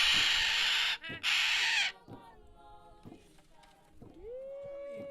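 A Tanimbar cockatoo being handled for banding in Indonesia gives a loud, harsh, raspy screech that breaks off briefly, then a series of shorter, grating calls that end in a rising squawk.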